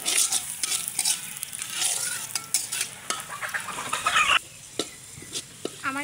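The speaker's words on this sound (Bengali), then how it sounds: "আমার কিন্তু পেঁয়াজটা ভাজা হয়েছে" Onions fry and sizzle in a pan while a utensil stirs and scrapes through them in irregular bursts, close and fairly quiet, with a faint bird call near the end.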